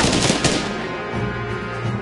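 Gunfire volley in the video game Banner of the Maid, a burst of loud overlapping musket shots at the start that dies away into a lingering rumble and low hum.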